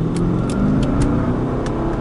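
Mercedes S550 4Matic with a 4.7L twin-turbo V8 accelerating, a loud steady engine roar heard close up throughout a short burst, with no talking over it.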